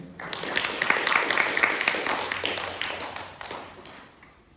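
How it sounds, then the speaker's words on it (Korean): A student symposium audience at a civil engineering convention applauds as presenters come up, a broad spread of clapping that swells, holds, then tapers off toward the end, with no voices over it. "큰 박수로 맞이해 주시기 바랍니다"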